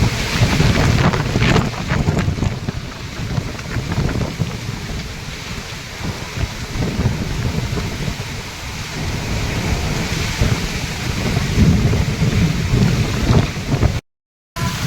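A violent wind storm roars outdoors, with rain, lightning and a door blown open. The gusts rumble loud and unbroken against the microphone, with a brief dropout near the end.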